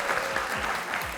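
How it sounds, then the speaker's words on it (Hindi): A studio audience bursts into dense, steady applause for the winning singer of a talk-show segment. The clapping is loud and continuous, with no voices over it. "तालियां हो जाए मुबारक हो जी"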